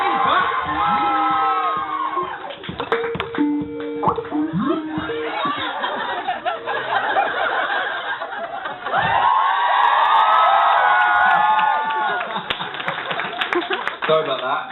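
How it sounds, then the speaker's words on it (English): A crowd cheers, shouts and laughs loudly, with excited voices talking over the noise throughout. "let's give a big round of applause for Bradley James."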